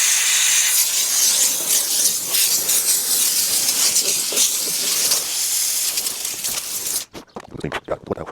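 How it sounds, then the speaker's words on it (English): A loud, continuous hiss of steam from a steam cleaner blasting at close range for about seven seconds during cold-weather car detailing, then stopping abruptly, followed by brief clattering and handling noises. "So just put your steamer in there, blow everything out, vacuum it up later."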